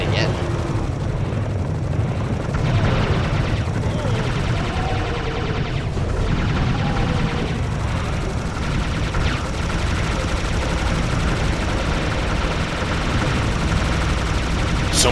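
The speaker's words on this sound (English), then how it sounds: "Someone's behind me shooting the lasers and hitting me." Rapid laser gunfire in the Serious Sam shooter game rattles loudly and continuously amid dense battle noise, with a player talking over the constant barrage.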